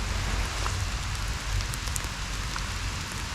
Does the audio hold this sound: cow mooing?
no